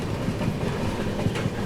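The Grand Trunk Express passenger train rolls into Amla Junction, a steady close rumble of railcars and rhythmic clacking wheels over the tracks, with no voices.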